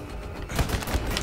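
Gun turret in Wolfenstein: The New Order firing a loud close burst of rapid shots with heavy low thumps, starting abruptly partway in and continuing to the end.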